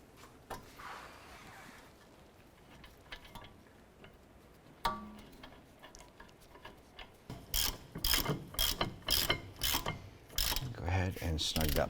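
A ratchet clicks in short bursts while snugging a brake bracket bolt on a 2008-2012 Honda Accord rear wheel hub. Faint rustling comes first, then the bursts grow louder and quicker near the end, close up and with no speech.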